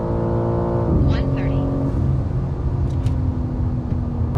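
A tuned G80 BMW M4 Competition xDrive with a dAHLer tune accelerates hard from inside the cabin, its engine note rising steadily and then shifting, while a voice talks over it.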